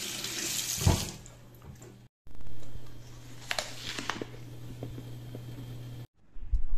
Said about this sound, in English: I'm gonna go ahead and wash the apple.